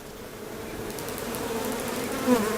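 Steady, dense buzzing of many honey bees close by around a hive, a continuous droning hum with a slight swell near the end.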